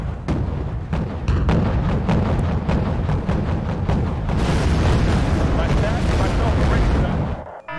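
Naval guns in the Wargame: Red Dragon video game pound an enemy Udaloy-class ship, a dense, loud barrage of overlapping booms and blasts that rolls on almost without pause, then cuts off abruptly at the end.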